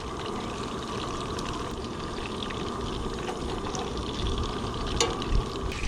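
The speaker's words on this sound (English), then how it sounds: "Oh, we got some sizzle, so she's going in." Walleye pieces frying in a pan at an overnight campsite by a dam give a steady, close, continuous sizzle and crackle, with no talking.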